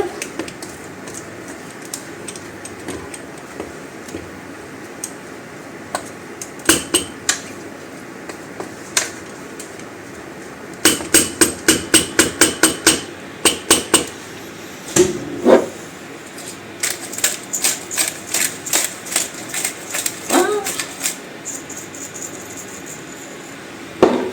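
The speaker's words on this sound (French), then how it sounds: "On va mélanger un peu." A spoon stirs chicken thighs cooking blanquette-style in a pot, giving sparse scraping clicks and taps that break into quick clustered bursts of knocks against the pot, fairly quiet and close with no talking.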